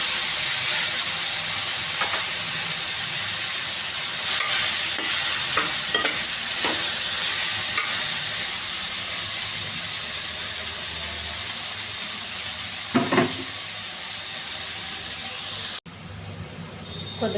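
Chopped cabbage frying in a pan, a continuous loud sizzle with scattered scraping clicks as it is stirred, close up throughout.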